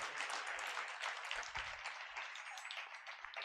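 A church congregation claps hands together during a worship service, producing a continuous, fairly faint patter of applause with no talking.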